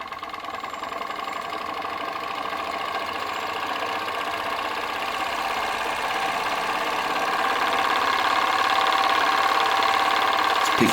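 A small model engine runs steadily driving a Baker fan load, its flywheel spinning in a continuous whirring drone that grows slightly louder toward the end.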